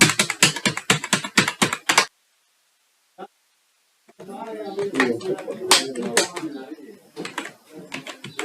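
Rapid, close keystrokes on a computer keyboard as a CSC login ID is entered, a quick rattling burst, then a pause and a single tap before more clatter continues under a voice.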